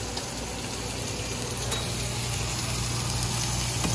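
Butter sizzles steadily in a hot pan beside searing steak, a continuous close broadband frying hiss with a low hum beneath and one brief clink partway through.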